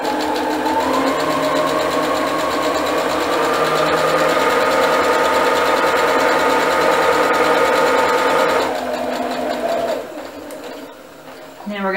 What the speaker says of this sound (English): turn our fabric again, line up those pieces like that, lower our foot,